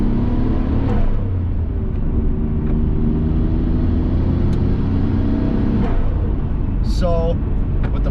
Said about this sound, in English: The stock blow-off valve sounds so good.